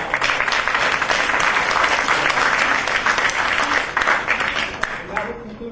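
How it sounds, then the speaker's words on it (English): Audience applause at a national oratorical contest, a loud, sustained, dense roar of clapping from a crowd that fades slightly near the end. "Round of applause."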